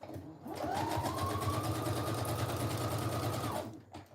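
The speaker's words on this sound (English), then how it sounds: "I always prefer to add in a little bit of messy sewing and sewing strings when I can" Sewing machine stitching a wallpaper journal, a steady rapid mechanical hum with a rising whine, running continuously for a few seconds before stopping, close and moderately loud.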